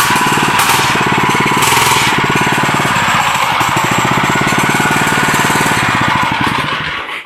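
A homemade go-kart's small engine runs loud and close, a rapid, rough, steady chugging that barely varies across the whole stretch.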